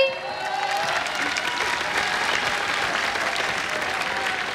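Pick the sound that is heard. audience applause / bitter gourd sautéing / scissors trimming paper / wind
audience applause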